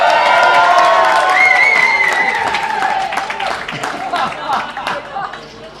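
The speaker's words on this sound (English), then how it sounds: "Give a round of applause for Adam." A crowd breaks into applause with scattered cheers and whoops, steady clapping continuing and thinning slightly toward the end; no one speaks clearly over it.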